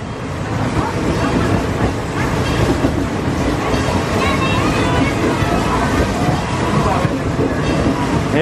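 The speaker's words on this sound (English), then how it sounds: "Always love a good train ride at a park." A theme park train ride at PortAventura, rolling into the Far West area, gives a steady, loud rumble and clatter of wheels and carriages that runs unbroken throughout.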